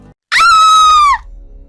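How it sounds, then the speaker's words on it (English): A woman's piercing, sustained scream rings out from inside a house, loud and steady for nearly a second before breaking off, with no talk around it. "It was a blood-curdling scream that was different to anything that I heard her before"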